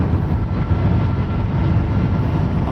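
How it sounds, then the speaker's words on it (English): A loud truck passing on the road, heard from a nearby car as a steady, heavy low rumble that fills the whole stretch without letting up. "This truck is really loud."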